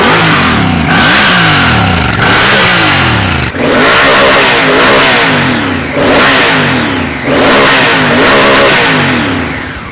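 A Honda CRF1000L Africa Twin DCT adventure motorcycle engine revs hard and continuously, with rising and falling pitch sweeps as it accelerates through automatic gear changes, loud and close with no talk.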